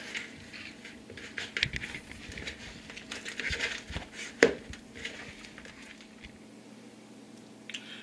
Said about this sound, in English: Now I'm kneading the egg into the flour as much as I can